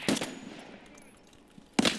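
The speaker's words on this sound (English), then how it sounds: "Firing a suppressed weapon upward at the sniper." Suppressed gunfire in the modded video game Tarkov, aimed upward at a sniper: a burst of muffled shots at the start and another at the end with a quieter gap between, loud and close, no speech.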